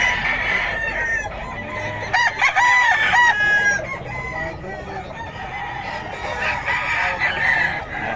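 Sweater breed gamecock rooster crowing in a yard, a loud nearby crow standing out over other clucking chickens and background crowing, with distant roosters calling again toward the end.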